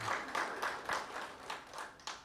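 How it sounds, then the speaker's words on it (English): An audience at a company awards event claps in a series of soft, uneven bursts, moderately distant and fairly faint, with no voices over it. "I think that deserves a big round of applause"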